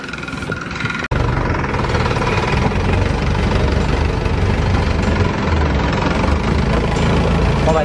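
A boat engine's loud, steady drone with a heavy low rumble runs continuously, briefly cutting out for an instant near the start.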